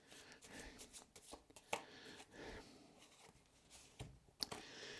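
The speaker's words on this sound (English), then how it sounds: "We'll draw one more card" A tarot card is drawn from a deck, giving soft papery rustles and slides with a few sharp flicks and snaps, close and quiet, with no one speaking.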